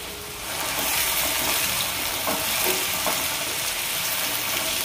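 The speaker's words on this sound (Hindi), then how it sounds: "हम इसे ढक के 5 मिनट तक हम पकाएंगे इसे कम आंच पर" Parwal bhujia, a pointed gourd stir-fry, cooks in a covered pan on low heat, giving a steady soft sizzle and hiss throughout with no talk.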